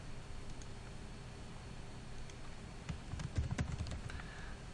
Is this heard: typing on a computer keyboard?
yes